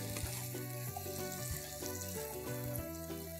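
Steady sizzle of mutton masala frying in a pan as cauliflower is stirred through it. A quiet, even sizzle runs throughout, with light stirring, under background music.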